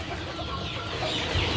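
Ayam sentul chickens, hens and roosters kept on a farm, cluck faintly in a short stretch of soft, steady outdoor background noise, with no one speaking.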